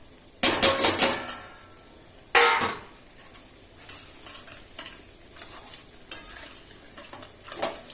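Semolina is poured into a pan and stirred for upma, with loud bursts of grainy scraping and clinks of a spoon against metal, followed by lighter intermittent stirring over a faint sizzle.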